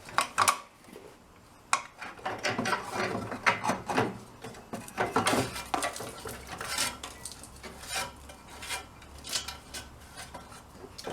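A wrench clicks and rattles against loose metal go-kart parts, making a quiet, irregular series of clinks, taps and ratcheting sounds close by.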